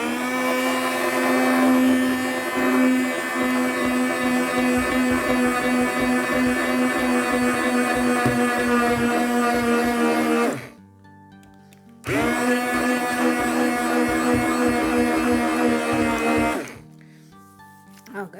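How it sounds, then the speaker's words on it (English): A rechargeable stick blender whirs through thick homemade vegan dish soap, running loud and continuous for about ten seconds, pausing briefly, then buzzing again for several more seconds before stopping. "Let me stick blend it just to show you."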